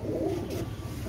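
A Royal Teddy pigeon pair coos softly and briefly, a faint low throaty murmur heard close by with no talk over it.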